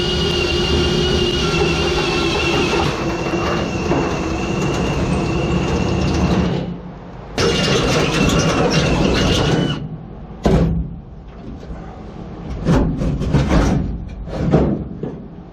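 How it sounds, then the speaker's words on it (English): A drill bores out spot welds on a car body panel, a loud continuous grinding whine with brief pauses and restarts, alone with no talk. "we've drilled out our spot weld"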